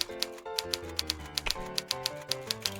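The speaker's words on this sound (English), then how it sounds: "I guess I don't have to wait for it to finish typing" Typewriter-style text effect in a video game, with steady, evenly spaced key clacks repeating over a soft tonal music bed, close and crisp.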